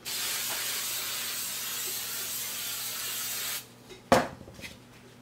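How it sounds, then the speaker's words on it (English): Hairspray from an aerosol can hisses steadily onto the back of a Star Wars sandtrooper helmet for about three and a half seconds, then cuts off, followed by a sharp knock and a few light clinks. "Hit the back of the helmet now with the hairspray."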